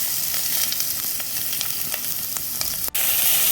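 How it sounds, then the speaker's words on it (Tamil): Chopped onions frying in hot oil in a pan for broad bean kurma, a loud, steady close-up sizzle with faint crackles and a brief stir near the end. "வெங்காயத்தை நல்லா வதக்கி விட்டுக்கலாம்."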